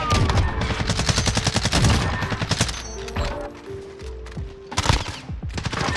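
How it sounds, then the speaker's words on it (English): Rapid automatic gunfire in a shooter video game, with dense bursts of sharp, evenly spaced shots, a brief lull, then more close, loud volleys near the end. "Who is shooting me?"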